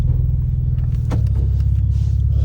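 A 2017 Porsche 911 Turbo S rumbles steadily and close as it pulls out of a driveway, a deep continuous engine drone that swells slightly with a soft mid-range whoosh partway through.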